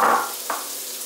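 Chopped onion drops into a hot pan while stuffed butternut squash is being made, giving a brief loud sizzle that quickly fades, then a second smaller hiss.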